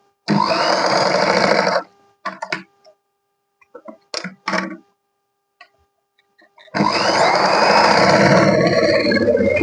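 A sewing machine stitches the front panel of a 40-inch katori blouse in two loud, steady runs at the start and end, separated by a quieter stretch of light clicks and fabric handling.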